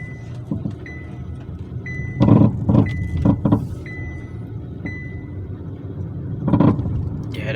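A car with worn front suspension parts clunks over bumps: a cluster of several loud knocks and thuds midway, a single louder clunk near the end, and a steady engine rumble with a faint intermittent whine underneath.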